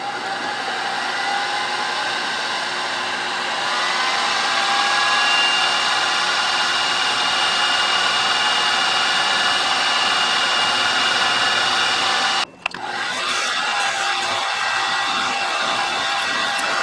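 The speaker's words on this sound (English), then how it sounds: "start with a center drill." A center drill spinning into metal on a Craftsman/Atlas lathe, a continuous loud whirring motor hum that stops abruptly near the end and then restarts more quietly.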